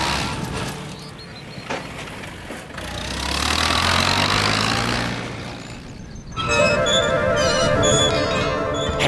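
The engine of a little red cartoon tractor runs with a low chugging rumble that swells and fades, followed by brighter tonal sounds near the end.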